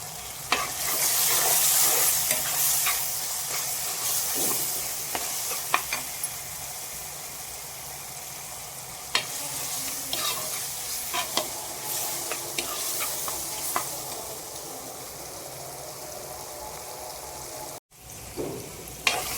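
Turkey berries (sundakkai) with turmeric sizzle steadily in a pan while being stirred, a continuous close frying hiss with scattered scraping clicks over about nineteen seconds, a brief drop near the end.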